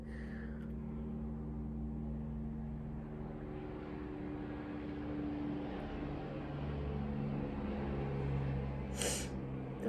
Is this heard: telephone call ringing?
no